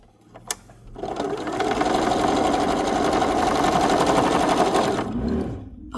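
A sewing machine stitches fabric patches in one sustained close run of about four seconds, an even rapid whir that starts after a small click and then winds down.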